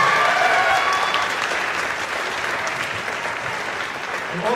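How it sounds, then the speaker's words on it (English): Sustained applause from a school concert audience after a senior elementary chorus performance, loud and steady at first and then easing slightly while clapping continues. "How about a round of applause for our senior chorus?"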